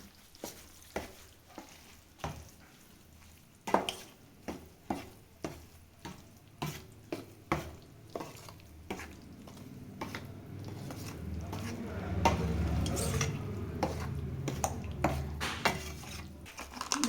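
Roasted flour being stirred with ghee in a pan for winter gond laddoos, with a steady run of spoon scrapes against the pan over a soft, rising sizzle.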